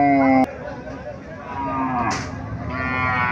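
Cattle at a market selling thin, bony cows call out with low harmonic moos, one short call at the start, then a longer one partly lost under steady crowd murmur and voices.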